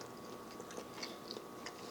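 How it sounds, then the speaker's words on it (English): Soft, close chewing of a bite of shrimp with broth from Tom Yum Goong, with faint wet crunches and mouth sounds repeating irregularly. "We're gonna try a bite of shrimp now with some broth."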